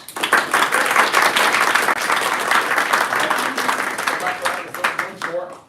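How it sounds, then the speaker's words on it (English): Wedding guests give the newly joined couple a warm round of applause, dense clapping that swells early and tapers off toward the end as voices and a few cheers emerge. "Give them a big round of applause there, folks."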